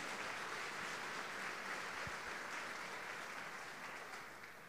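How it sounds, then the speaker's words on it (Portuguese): Church congregation applauding during a sermon, a dense, steady wash of clapping heard at a distance and fairly faint, tapering slightly at the end. "Quem crê nisso pode aplaudir ao nome do Senhor Jesus"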